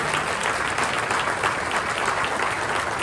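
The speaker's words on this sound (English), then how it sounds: "a big round of applause for Christopher and Christine" An audience at the Lake Oswego Chamber Honors Award Program gives the evening's hosts a full, even round of applause, steady and close throughout.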